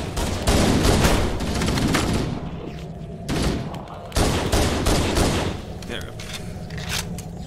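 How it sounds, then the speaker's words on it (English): Pistol fire in Halo: Combat Evolved Anniversary, loud repeated volleys of shots in a firefight, with someone talking over parts of the shooting. "I'm hearing a pistol."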